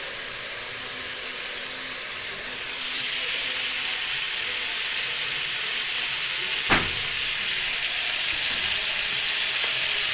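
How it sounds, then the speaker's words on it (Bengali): Fish frying in oil in a kadai, a wok-like pan, with a steady, close hiss of sizzling that swells louder after a few seconds and one sharp knock partway through, with no voices. "এদিকে মাছটা ভেজে নেব, মাছটা ভেজে নিয়ে এদিকে।"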